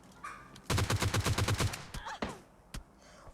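Gunfire in PUBG Mobile Lite, a fast automatic burst of about ten loud close shots, followed by a couple of sparser single cracks and faint background game noise.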